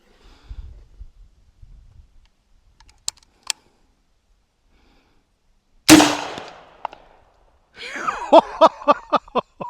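An X-Products can cannon launcher fires at a wooden target, giving a sharp loud blast near the middle followed by a rapid burst of clattering impacts and knocks, with faint scattered ticks before it.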